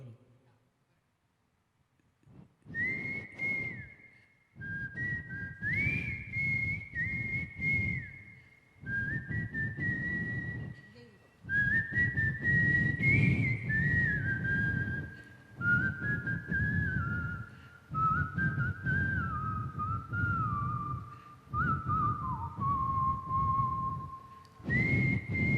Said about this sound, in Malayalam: വിസിലടിച്ച് പാടും.